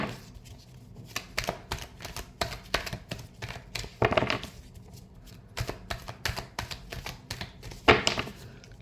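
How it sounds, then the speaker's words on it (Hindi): Tarot cards being shuffled by hand in a reading setting, a run of quick riffling bursts with short pauses between, close and fairly quiet with no talking. "Last shuffle."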